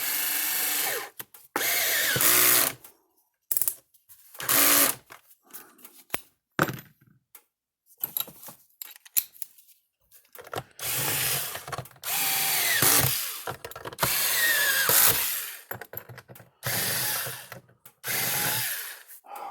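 Screwdriver driving tri-wing screws back into a Speedrite SM 2400 electric fence charger during repair, heard as repeated close bursts of ratcheting, scraping turns separated by short pauses, with no talk.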